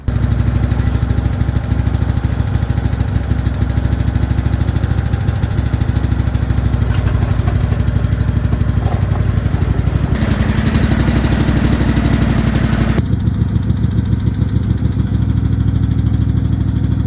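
A Husky garden tractor engine runs steadily and loud throughout, a close, continuous motor drone with brief shifts in tone partway through, used to move a pigeon loft on an urban homestead.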